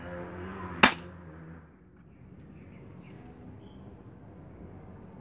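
A single sharp shot from an upgraded D'Cobra Reborn M159 spring-powered airsoft M60 machine gun firing a 0.12 g BB, loud and close, followed by quiet room noise.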